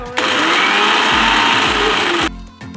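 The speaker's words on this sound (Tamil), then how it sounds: "இதை இப்போ நம்ம கிரைண்ட் பண்ணிட்டு வந்துடலாம்." A mixer grinder whirs loudly and steadily as it grinds garlic paste for garlic rice, starting abruptly and stopping after about two seconds, with rhythmic low thumps beneath the high whine.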